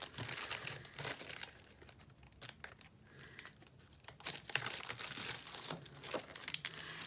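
Sheets of Designer Series patterned paper in a Purple Posy print being handled, giving repeated crisp crinkles and rustles in irregular bursts, close by, with a quieter lull in the middle and no talk.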